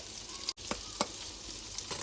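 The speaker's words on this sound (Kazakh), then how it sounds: "Араластырып, шамалап қуырып аламыз. Өте қызартып жібермеңіздер. Енді міне сарымсағымыз қуырылды." Garlic fries and sizzles in a pan while being stirred, a steady hissing crackle with a few soft scraping knocks from the stirring.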